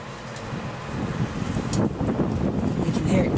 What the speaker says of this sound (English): It's starting to get windy now.